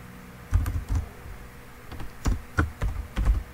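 Keys clatter on a computer keyboard in short bursts of close, distinct taps while code is typed, with brief pauses between clusters and no talking.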